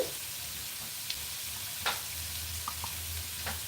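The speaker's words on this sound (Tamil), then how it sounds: "நல்லா ஃப்ரை பண்ணிக்கணும்." Vegetables fry in a pan with a steady close sizzle and hiss, broken by a few light stirring clicks, with no voices.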